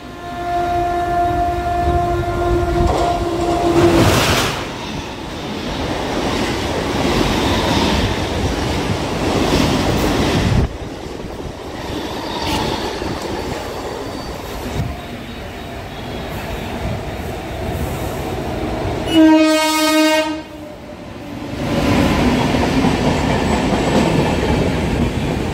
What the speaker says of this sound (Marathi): परळला जाणारी धीमी लोकल थोड्याच वेळा प्लेटफॉर्म क्रमांक 2 पर येत आहे